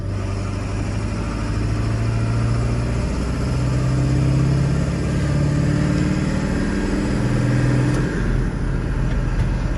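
A Ford 7.3 diesel pickup fitted with a Banks turbo pulls in fourth gear on flat ground: a loud, continuous engine drone heard from inside with shifting low tones as it builds, without talk.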